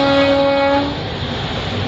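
Gandhidham–Palanpur passenger train running with a steady rumbling roar and a sustained horn tone that fades after about a second, loud and close, with no talking.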